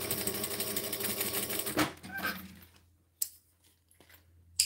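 An industrial sewing machine backstitches through fabric, a steady mechanical whir running close and loud for almost two seconds before stopping, followed by a few faint clicks and short taps in near silence.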